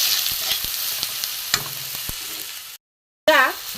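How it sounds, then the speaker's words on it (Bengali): Ginger, salt, chili powder, turmeric, cumin and coriander powder frying in hot oil give a close, crackling sizzle with sharp stirring clicks, cut off by a short silence before a voice briefly follows. "আমি এইটা তেলের মধ্যে দিয়ে দেবো। এবারে আমি একটুখানি কষে নেবো।"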